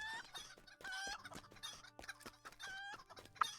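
Chickens cluck repeatedly during a chicken run in an online fantasy video game, the Trollshaws on the Arkenstone server, with close, busy, overlapping calls and no speech.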